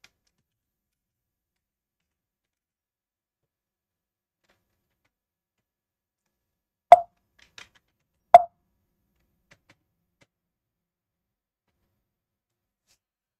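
Mostly silence, broken by two short, faint beeps a second or so apart, like a computer terminal alert.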